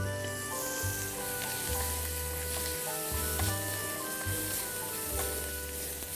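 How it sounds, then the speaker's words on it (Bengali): Chicken seasoned with a little white pepper fries in a pan with little oil, giving a steady close sizzle with faint stirring and background music. "দর্শক, আমার চিকেনটা প্রায় ভাজা হয়ে গেছে।"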